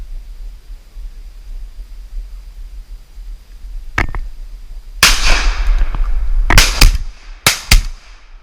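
Shotgun blasts ring out during a wood duck hunt, a single crack followed by a cluster of loud, sharp reports in quick succession over a low outdoor background.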